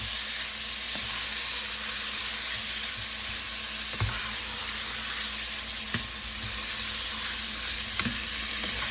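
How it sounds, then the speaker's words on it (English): Sliced steak for fajitas sizzles and crackles steadily in a hot pan, with occasional sharp clicks and scrapes as it is stirred, close and moderately loud. "And you want to keep stirring because you don't want this to get too overly cooked."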